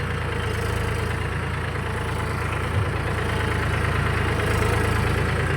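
A loaded tractor's engine runs with a continuous low, throbbing drone at steady speed, close and fairly loud throughout, with a brief bump partway through and no talk over it.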